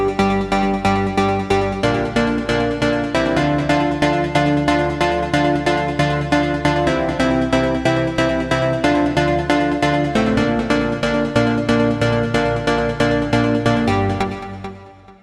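A bright synth pluck modeled on the one in a track, playing a steady, rhythmic melodic pattern of short plucked notes over a full harmonic backing, loud and continuous for about fourteen seconds before stopping.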